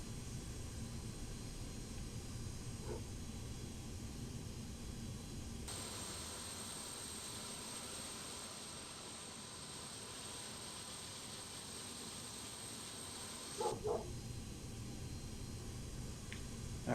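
Jet engines of an Antonov An-225 spooling up together in a flight simulator, a steady, faint whining roar with broadband hiss that holds for several seconds and then drops away, with a couple of soft clicks.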